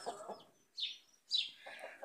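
Hens on a Brazilian cattle farm, several of them brooding, give a few soft clucks and brief squawks in short bursts with quiet gaps between, fairly close and moderately loud, with no one talking.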